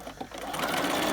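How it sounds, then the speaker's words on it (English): A sewing machine runs a standard stitch along a marked line while preparing a welt pocket, a steady close mechanical whir that builds in loudness and holds continuous through the short burst. "So here we're just going to sew on that line."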